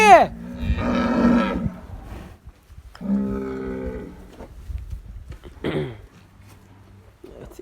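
Calves on a farm, crowding around a farmer between paddocks, give several loud, drawn-out moos close by, with quieter rustling and shuffling in the gaps between calls.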